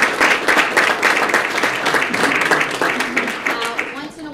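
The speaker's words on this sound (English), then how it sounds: "I now give you all some applause" Audience applause at a police swearing-in ceremony, a steady wash of many hands clapping continuously, fairly loud and close, with scattered voices mixed in.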